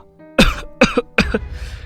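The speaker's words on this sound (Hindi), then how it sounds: "वह बुरी तरह खांस रहा था।" Three harsh, loud coughs in quick succession, close up, each a rough explosive burst with a short pause between.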